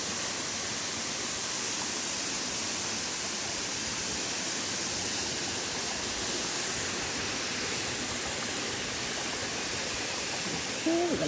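Mt. Carmel waterfall in Grenada roaring close by, a steady, loud, unbroken rush of falling water lasting throughout, with a voice breaking in only at the very end.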